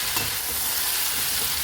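Soy sauce mixture stirred in a frying pan, a steady sizzling hiss with soft scraping close by, continuous and fairly loud for a moment, with no voices.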